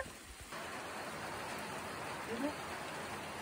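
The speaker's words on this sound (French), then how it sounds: "Nous sommes en pluie éparse." Light, scattered rain falling on a hike through the Lot countryside near Issendolus, a steady soft hiss of drops that starts faintly and fills in after the first half second, close and even throughout with no voices.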